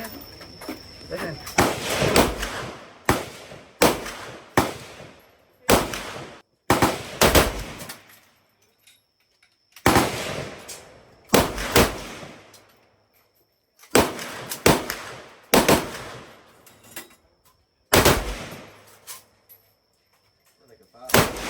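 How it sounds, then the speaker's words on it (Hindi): AK-47 assault rifle fired at a shooting range in Saigon, Vietnam: about ten sharp, loud single shots with gaps between them, each followed by a brief ringing decay, and no voices between the shots. "AK-47 की 10 गोलियां चलाई मैंने"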